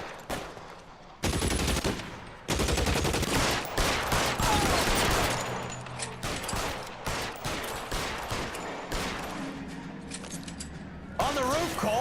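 Shootout in the video game L.A. Noire, dense volleys of close, loud gunshots and rapid automatic fire running almost without pause, with voices talking over parts of the exchange.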